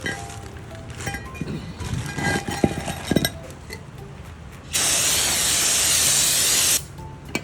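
Brake cleaner sprays in one loud continuous hiss of about two seconds onto a brake rotor from a Porsche Macan S, after some close clinks and tool handling in a workshop.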